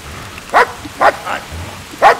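A dog in Kingdom Come: Deliverance barks four times in short sharp bursts spaced about half a second apart, fairly close and loud over a quiet background.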